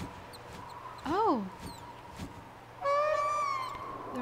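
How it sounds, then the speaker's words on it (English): Bird calling in the video game Myst III Exile, two distinct warbling, swooping cries separated by a pause, over a low ambient hum with soft background sounds. "There's a bird."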